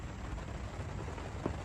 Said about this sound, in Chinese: 听着雨声